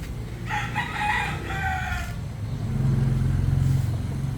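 A broodcock rooster crows loudly and close by, a long drawn call, followed by lower clucking and rumbling background noise.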